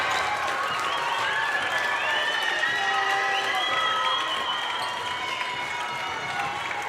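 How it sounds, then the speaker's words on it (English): Crowd at a high school varsity boys basketball game cheering and applauding steadily throughout, a dense wash of shouts and clapping with no pause. "And the crowd's cheering"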